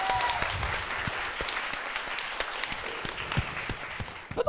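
Moderate, fairly close applause from a comedy show audience cheering the host, with distinct individual claps over a softer background patter, fading toward the end.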